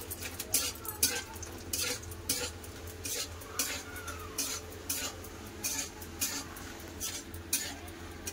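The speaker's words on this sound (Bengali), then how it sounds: "একটু বড়িটা ভেজে নিচ্ছি" Bori, small sun-dried lentil dumplings, frying in a pan of oil with a low continuous sizzle, overlaid by regular scraping and stirring knocks of a utensil against the pan.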